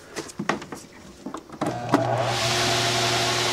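Homemade box fan starting up with its second, noisier blade: a few clicks and knocks, then a steady loud whirring hum with a broad airy rush settling in.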